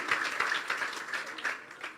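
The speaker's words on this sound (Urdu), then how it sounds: "یسوع کے لیے زوردار تالیاں بجا رہے ہیں" A church congregation applauding for Jesus, a steady, dense patter of many hands clapping with a few louder bursts, fairly close and continuous.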